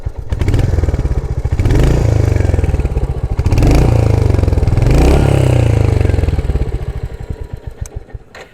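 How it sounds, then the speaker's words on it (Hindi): A Royal Enfield Hunter 350 single-cylinder motorcycle revs hard in neutral, close and loud, rising and falling through several throttle blips before dropping back to a rumbling idle. "ये आवाज़ आपको रेस देने के बाद में मिलेगी रॉयल इनफील्ड की हंटर 350 से।"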